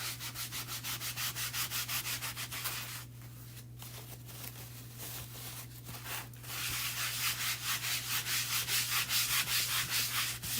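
Chalk paint being buffed into a surface with brisk back-and-forth rubbing strokes, close and rhythmic, easing off in the middle and then returning louder over a steady low hum.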